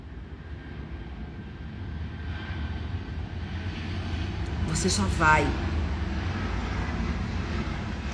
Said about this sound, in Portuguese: esse avião, ele sabia que eu tava em live, ele passou bem devagarinho